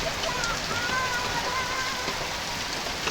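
Steady autumn rain falls outdoors, a constant dense patter of drops on surfaces that holds an even level throughout with no voices.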